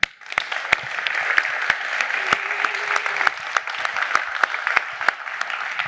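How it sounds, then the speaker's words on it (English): An audience at a technical talk on rendering applauds the organizers, steady clapping with distinct sharp individual claps standing out, sustained at an even level throughout. "big round of applause for the organizers"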